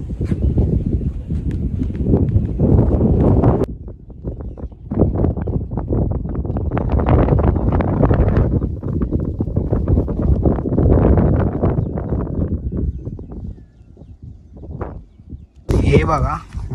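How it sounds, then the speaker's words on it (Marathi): Gusty wind buffets the microphone on a hilltop at Takmak Fort, a steady low rumble of varying strength heard close under continuous talking. "हे बघा, वारा पण खूप छान आहे"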